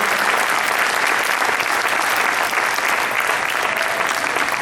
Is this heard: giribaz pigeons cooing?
no